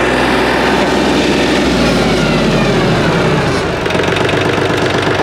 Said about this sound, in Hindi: 2500 आरपीएम पे ये रफ्तार है इसकी।